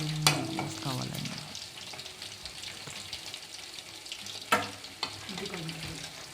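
Chicken pakodi fry in oil with a low, steady sizzle, broken by a few sharp metallic clinks of a utensil against the pan.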